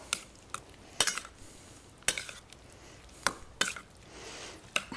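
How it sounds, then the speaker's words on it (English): A spoon tosses bruschetta mix with balsamic vinegar in a bowl, giving scattered sharp clinks and taps against the dish between soft wet stirring sounds, close and unaccompanied by talk. "what we want to do is just take the spoon and toss that all up"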